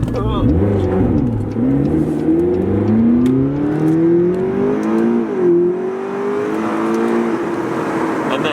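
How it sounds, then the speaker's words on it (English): A twin-turbo V8 car accelerating hard, its engine note climbing steadily through the gears with a brief dip at a shift, loud and close, with people talking over it. "Twin turbo V8, that's never slow."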